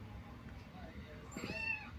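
A recording of a cat meowing, played near the end as a short burst of rising and falling meows over a faint indoor background.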